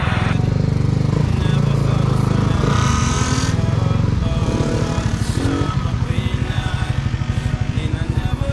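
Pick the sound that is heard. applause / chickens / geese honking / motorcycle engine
motorcycle engine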